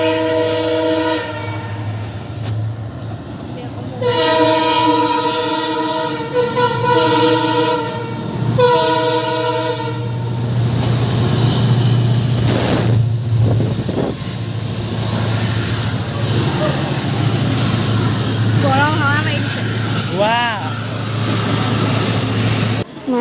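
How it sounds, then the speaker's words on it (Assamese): A passenger train pulls into a station with loud, repeated horn blasts over a steady heavy rumble, then a long stretch of rolling wheel and carriage noise close by. "এতিয়া ট্ৰেইনখন আহিছে"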